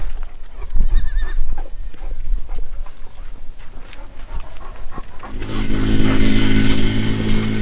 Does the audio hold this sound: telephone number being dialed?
no